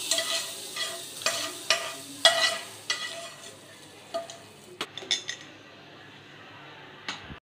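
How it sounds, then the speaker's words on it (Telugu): Spices with asafoetida are tempered in hot oil for majjiga pulusu, giving a soft frying sizzle with a string of sharp stirring scrapes and clinks against the pan, close and fairly quiet, thinning out toward the end. "ఇంగు వేసుకుని ఓకే ఈ తిరగమూతనంతా వేసేసుకుందామండి."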